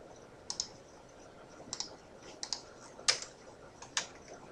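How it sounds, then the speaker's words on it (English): Keys tapped on a computer keyboard in a quiet room, a handful of separate soft clicks spaced irregularly over several seconds, close and faint. "I'm just typing in"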